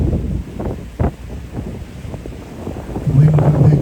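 A tour boat cruises over a gentle half-metre swell on the open sea, with steady engine rumble and gusty wind buffeting the microphone, plus occasional water slaps and faint voices in the background.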